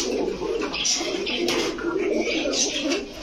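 Pigeons coo in soft, repeated throaty calls close by, a male chasing a female, over a low background hum with some faint chatter.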